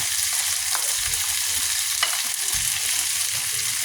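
Squash pieces dropped into a hot pan of pinakbet, giving a close, loud sizzle and fry with stirring scrapes and soft thumps over a few seconds, no talking.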